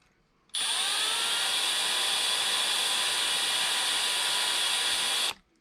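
A power drill spins up to mark a guitar neck, starting slowly and then holding a loud, steady high whine for about five seconds before stopping abruptly.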